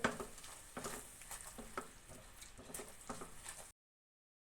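Milma ghee being stirred into hot melted jaggery syrup in a pan, soft sizzling with scraping stirring strokes in an uneven rhythm, close and fairly quiet, ending abruptly.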